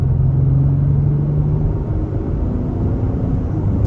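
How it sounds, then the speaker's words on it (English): 2024 Acura MDX A-Spec SUV accelerating at about a third throttle in normal mode, heard from inside as a loud, steady low engine and road rumble with a faint tone that eases slightly partway, no voices. "All right, guys, about a third throttle in normal mode. Nice smooth shifts."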